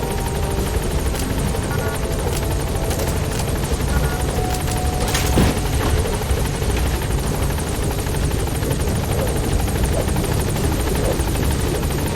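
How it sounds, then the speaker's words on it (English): A support helicopter in Metal Gear Solid V: The Phantom Pain drones steadily throughout, its rotor and engine noise loud and constant with no talking. "Support helicopter has arrived."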